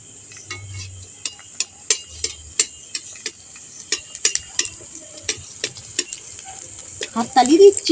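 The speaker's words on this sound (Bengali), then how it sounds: "এই লুচিগুলো ভেজে নিচ্ছি" Semolina luchi fry in hot oil with a soft continuous sizzle, while sharp rhythmic ticks and clinks of a utensil repeat through the clip and a louder bubbling burst comes near the end.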